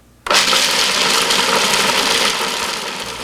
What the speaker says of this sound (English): let's go ahead and puree up 1 pound of the corn